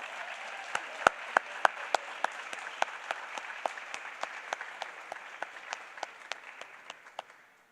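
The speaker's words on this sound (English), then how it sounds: "So let's give them one more big round of applause" An audience at a school board of education meeting applauds the retirees, with steady clapping from a crowd and a few sharp, nearby individual claps standing out, gradually fading toward the end.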